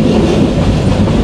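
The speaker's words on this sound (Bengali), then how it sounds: "এই যে হচ্ছে আমাদের জয়ন্তিকা এক্সপ্রেস ট্রেনের ভিতরের ভিউ" Inside the Jayantika Express passenger train running between Dhaka and Sylhet, a loud, steady carriage rumble with rhythmic wheel clatter fills the cabin without talk.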